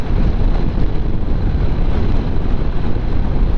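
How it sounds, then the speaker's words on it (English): Steady, loud wind roar buffeting a microphone while riding a Honda NC700X motorcycle, a dense low rumble that never lets up, with no voices. "Damn, it's got windy."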